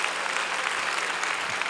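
A church congregation applauds during a worship service, a brief, dense burst of many hands clapping close and loud, with no talk over it.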